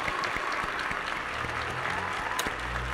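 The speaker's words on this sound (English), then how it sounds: "Round of applause for Karen." A live online craft show audience gives a round of applause, a fairly faint patter of clapping with a few close sharp claps and a low hum near the end.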